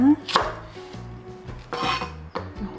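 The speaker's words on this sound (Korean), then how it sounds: "큼직하게 이렇게 썰어주고, 청고추 잘라서 3개 했습니다" A knife chops green chili peppers on a cutting board with a handful of sharp, irregular chops up close. Light clatter of the blade and board comes between the chops, and no one speaks.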